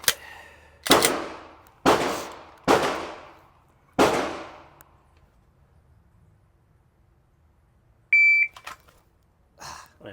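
Four sharp, loud Glock pistol shots fire in quick succession during a bill drill, each ringing out briefly, followed by quiet and a short electronic timer beep.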